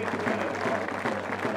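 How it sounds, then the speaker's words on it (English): Rugby league fans applaud in a stadium during a Bradford Bulls match against Doncaster, a short dense burst of clapping heard at a distance under a low crowd murmur. "he's getting a round of applause now from the fans"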